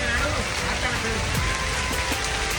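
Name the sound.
heavy rain falling in a village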